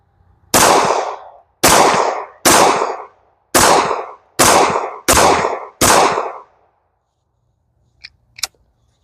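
A Canik TP9 pistol fires reloaded ammunition at a practice session: seven loud, sharp shots in a fairly even rhythm about a second apart, followed by quiet and a couple of small metallic clicks.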